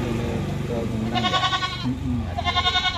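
Several goats bleat up close while being carried on a motorbike goat taxi in Kudus ahead of Eid al-Adha, their cries mixing with steady traffic noise and someone talking.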